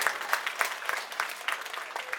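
Crowd at an Aam Aadmi Party public rally in Mustafabad, Delhi, applauding party workers, a steady burst of many hands clapping fairly close, with no voices over it.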